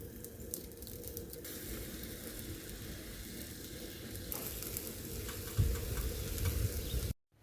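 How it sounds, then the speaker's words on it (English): Tomatoes, onions and garlic charring in a hot pan for salsa give a steady close sizzle and crackle with occasional stirring, louder toward the end and then cut off abruptly. "For the salsa, you want to char the tomatoes, onions and garlic."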